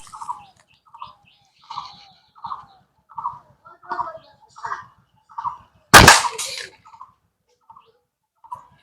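A single sharp snap of a slingshot shot at a target partly hidden behind bamboo, standing out once amid a steady series of nearby fowl or turkey-like bird calls.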